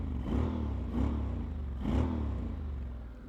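A Honda X-ADV motorcycle's exhaust, close up, revved in three throaty swells over a steady idling rumble, with no talking.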